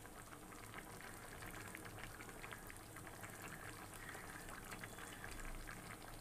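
A pot of goat fat curry with soybeans simmers at a steady boil, a faint close bubbling and sputtering that continues without a break and has no voices over it.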